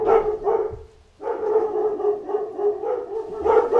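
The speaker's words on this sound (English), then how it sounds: "What is wrong with the dogs?" Several dogs bark in quick repeated bursts, fairly close and loud, with a short pause before the barking resumes and continues steadily.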